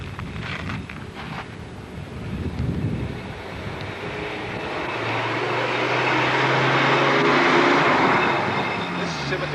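Glass-fuselage Scimitar Deuce radio control model aircraft with rear exhaust, a 40-powered racer, passing with a distant rising whine that builds to a steady roar, heavily buffeted by wind noise.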